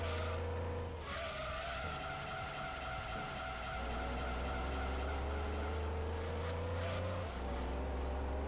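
Car tires skidding and squealing in the racing video game Gran Turismo 2, a sustained screech over a droning engine that shifts pitch as the slide continues, loud and without talk.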